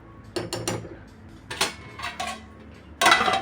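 A metal lid goes onto a pot of potato, drumstick and wet cashew sabzi cooking on a medium flame. Several clinks and clatters ring out in short bursts, ending in one louder clank.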